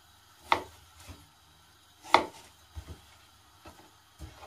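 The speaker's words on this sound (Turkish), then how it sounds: "Önce bir etimizi doğrayalım." A knife chops meat on a board in a few sharp, spaced strikes, two of them loud and close, followed by lighter taps.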